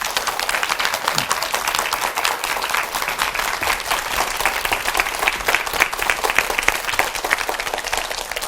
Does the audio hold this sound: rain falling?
no